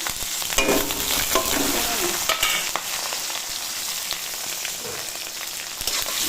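Bay leaf, cumin, dried and green chilies and five-spice crackle in hot oil as a loud, rain-like sizzle with scattered pops and occasional stirring scrapes, close and uninterrupted.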